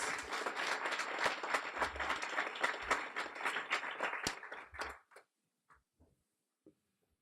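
A guide dog school graduation audience claps for the puppy raisers, a dense, moderately loud burst of applause that thins out and stops after about five seconds, leaving a few scattered claps.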